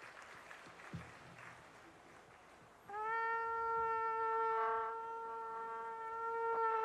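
Faint, distant audience clapping at a church jubilee flag hoisting ceremony, soon joined by a loud sustained brass trumpet tone that swells and holds over the crowd noise.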